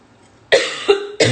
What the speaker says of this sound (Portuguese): essa tosse tá terrível